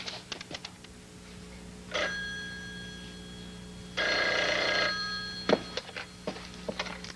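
An old telephone rings on an incoming call, giving two electronic ring bursts, one short and one longer, amid intermittent typing-like clicks and taps in a quiet room.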